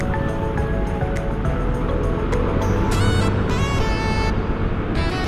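A Yamaha Aerox scooter engine revs while riding on the road, a loud continuous drone rising and falling in pitch over heavy wind noise.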